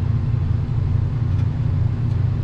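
A car drives slowly along a coastal road near a small harbor, heard from inside as a steady, close low rumble of engine and tires with no break.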